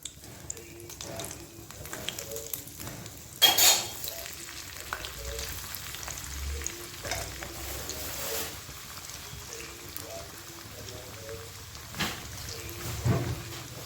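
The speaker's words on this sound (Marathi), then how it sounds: "तेल तापलेलं आहे आपण आता वड्या तळून घेऊयात" Spring onion vadas sizzle and bubble softly as they deep-fry in hot oil, a quiet crackling fry with occasional clinks and stirring sounds.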